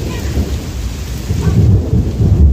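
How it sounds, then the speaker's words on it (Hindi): Loud thunder rolls in a deep, continuous rumble during heavy rain in the hills, with steady rain hiss and patter on surfaces throughout. "अभी गर्जना भी सुनो, बहुत ज़्यादा तेज़ गर्जना हो रही है।"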